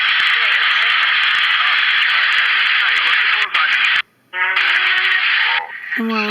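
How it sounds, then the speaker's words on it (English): Loud, steady broadband hiss of white noise from a ghost hunting app, filling the whole clip, briefly cutting out near the middle and ending as faint voice-like fragments break through. "And white noise."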